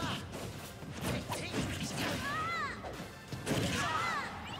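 A forward smash attack lands in a Super Smash Bros match between Samus, Ness and Marth. There are sharp impact crashes and whooshes with rising tonal chirps, and busy game noise with a commentator talking underneath.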